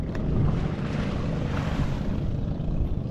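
Large sea waves wash against a tilting boat amid heavy wind rumble, a loud, continuous roar of churning water close to the microphone with no voices.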